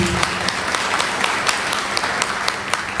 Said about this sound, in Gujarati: એકવાર જોરદાર તાળીઓથી